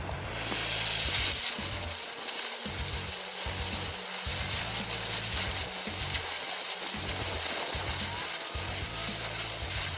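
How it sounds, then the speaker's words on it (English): A cutting torch slicing the bolt heads off an oil pan bracket on a 2003 Ford Escape gives a loud, steady roaring hiss, with a low rumble that pulses on and off throughout. "since I cut that off with the cutting torch"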